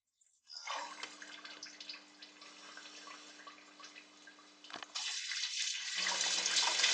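Water runs through a car coolant hose during a flush and pours out, a steady splashing flow that grows louder and fuller partway through, with no talking.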